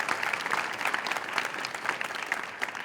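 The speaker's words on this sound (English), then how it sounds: "One more round of applause for them because of their vision and their commitment" A school audience at an IB pinning ceremony claps for the Board of Trustees, a dense, even round of applause from a crowded hall that continues without a break.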